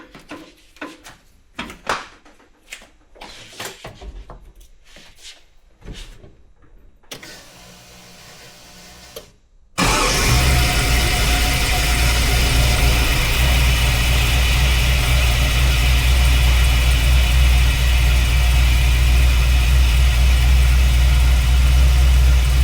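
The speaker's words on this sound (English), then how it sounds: "I'm going to fire the car real quick" A car engine cranks and catches, then settles into a steady, loud idle close by during a brake booster vacuum check; quieter clicks and handling noises come first.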